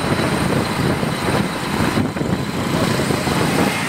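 Motorcycles and a scooter riding in a group along the Jalandhar highway on a trip toward Anandpur Sahib, with steady broadband engine and wind roar that stays loud and close throughout, briefly dipping near the middle.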